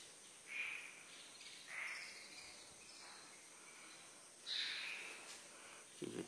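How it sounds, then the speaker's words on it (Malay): Crickets and frogs chirp at night in a quiet, faint outdoor scene, with a few brief bursts of calls standing out over a soft, steady insect hum. "kita dengar bunyi apa ni, bunyi katak, bunyi cengkerik"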